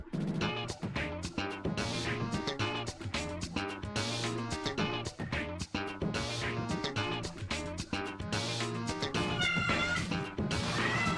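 A cat meowing and caterwauling loudly and insistently, close by, its yowls repeating almost without pause for several seconds.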